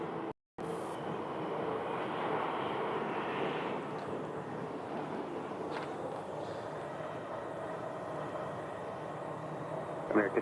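Takeoff roar of an American Airlines jet departing runway 7 left at Sky Harbor, a broad, steady engine rumble heard from a distance that continues without a break, with faint radio chatter underneath.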